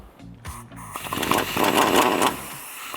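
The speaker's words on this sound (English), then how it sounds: "now I'm going to take my 15mm on my gun." Power tool whirring up and running steadily with a 15mm socket driving a bolt on a Pedders eXtreme XA coil-over for a 2011-2022 Dodge Challenger, close and fairly loud, easing off at the end.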